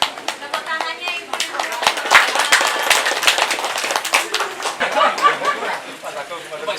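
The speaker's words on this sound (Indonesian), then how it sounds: "Tepuk tangannya Ibu." Neighbourhood audience at an RT 007 Plamongan Indah gathering clapping hands together, a steady patter of claps lasting several seconds with voices chattering alongside.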